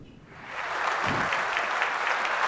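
A studio audience at a televised Ramadan quiz competition final bursts into applause, rising quickly into steady, dense clapping that fills the room and holds without talk.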